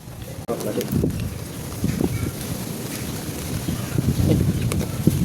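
Steady gusts of wind buffet the microphone, with a low rumbling roar that swells and eases, and faint voices now and then.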